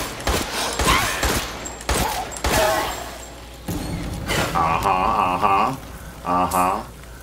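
Rapid bursts of video game gunfire, loud and dense, repeated in quick volleys with warbling tonal effects toward the end, alongside talk.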